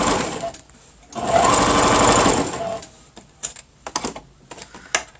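Sewing machine stitching a seam on a simple zippered canvas tote bag, a loud rapid mechanical whirring burst of about a second and a half, followed by short clicking starts and stops as the work is adjusted.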